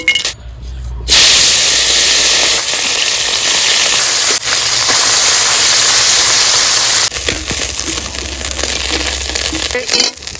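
Small puti fish sizzle in hot mustard oil in a heated kadai, a loud, steady crackling hiss that runs for several seconds and then turns into sparser pops and spatters close by.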